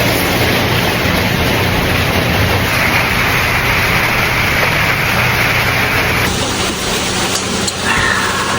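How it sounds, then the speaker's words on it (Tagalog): Heavy rain pours down in a dense, constant roar of hissing noise, loud and close, with a slight shift in character partway through and no voices heard. "Lakas ng ulan. Ayan, lakas ng ulan."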